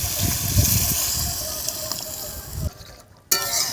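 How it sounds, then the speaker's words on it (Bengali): Water pours steadily into a pan of Bengali fish curry with spiced oil, a continuous close gush and hiss that stops briefly near the end before resuming. "এবারে আমি জল দিয়ে দেবো।"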